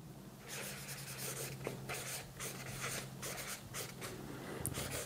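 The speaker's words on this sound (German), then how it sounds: "Ich male das da unten noch, wir wollen ja Papier sparen." A pen drawing on paper in close-up, with short scratchy strokes and pauses in an irregular rhythm over a faint low hum, no talking.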